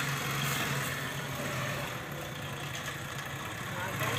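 A motorcycle engine runs with a steady, low idling rumble close by, under continuous talk from nearby voices.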